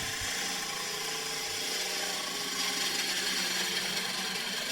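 Oak branch burl being turned on a wood lathe, with a steady, continuous grinding and scraping rumble of the tool cutting wood throughout, close and fairly loud, no speech.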